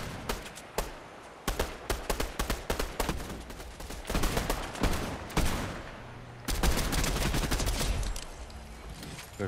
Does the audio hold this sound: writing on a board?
no